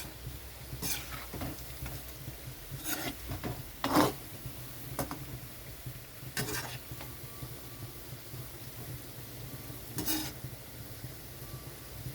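Palm fritters (taler bora) dropped in small portions into hot white oil in a wok, giving a soft steady sizzle with a few louder crackling bursts spread across the clip, close by and with no talk.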